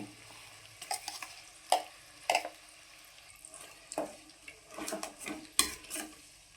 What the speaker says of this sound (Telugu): ఈ చింతపండు గుజ్జుని ఈ నూనెలో బాగా ఉడకనిద్దామండి